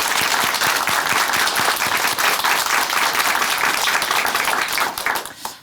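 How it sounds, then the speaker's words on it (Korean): Church audience at a Korean Christian testimony program breaks into sustained, loud, dense applause that carries steadily for about five seconds before fading out at the end. "박수로 응원해"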